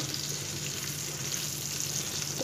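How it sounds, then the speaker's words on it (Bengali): Pieces of hilsa fish fry in hot mustard oil in a Bengali home kitchen, giving a steady, close, even sizzle with no talking. "তো কালার চেঞ্জের সাথে সাথে মাছটাও প্রায় ভাজা হয়ে গেছে, এপিট ওপিট দুপিটি ভালো করে ভাজা হয়েছে।"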